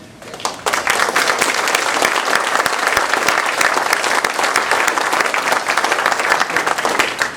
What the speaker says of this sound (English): Why don't you guys give yourselves a round of applause?